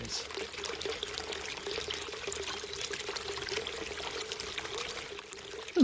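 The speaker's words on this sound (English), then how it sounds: "this one, recorded at the water feature at Pazo San Mauro" Water from a garden water feature at Pazo San Mauro trickles and pours in a steady, gentle splash that continues unchanged throughout.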